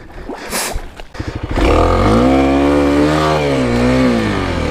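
A 2021 Kawasaki KLX300 dirt bike stuck off road sputters in short, choppy bursts, then its engine revs hard and loud, holding a high, wavering drone up close.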